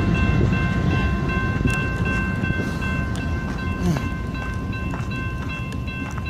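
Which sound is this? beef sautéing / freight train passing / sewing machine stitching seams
freight train passing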